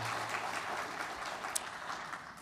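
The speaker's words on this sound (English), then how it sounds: "So give yourselves a round of applause." Conference attendees at a Federal Reserve financial markets event applaud, a brief, even wash of clapping heard at a modest distance.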